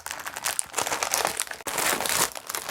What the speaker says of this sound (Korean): 그럼 이 비닐도 한번 뜯어보도록 하겠습니다